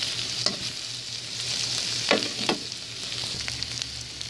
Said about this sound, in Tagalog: Tingnan natin yung ating pinray na pork. Haluin lang ho natin.